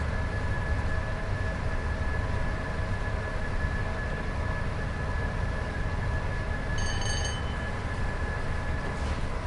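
A BR Class 86/2 electric locomotive in Train Sim World 5 hums and rumbles steadily along the rails, a constant low drone with faint tonal whine and a brief high electronic chirp near the end.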